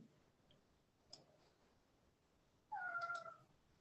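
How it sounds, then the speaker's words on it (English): A cat meows once, a short, fairly clear cry heard close by after a quiet stretch with a few faint ticks and no talking. "I was gonna say someone's cat needs some love."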